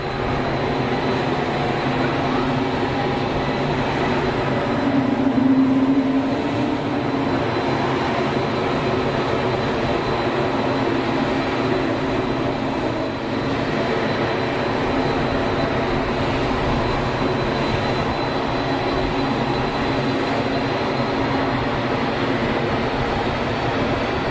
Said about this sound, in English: easyJet on finals. It's a 320 in from Gatwick.